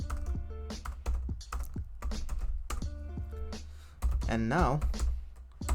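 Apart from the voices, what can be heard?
typing a file name on a computer keyboard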